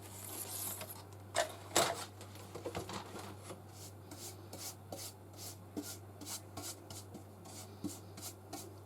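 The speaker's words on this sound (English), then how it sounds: "Just need my mega brush. Just going to dust off what I've done." Brushing dust off a wooden item being stripped of its old varnish, a close, quiet run of soft bristle strokes, with a few louder sweeps near the start and a steady rhythmic scrubbing after that.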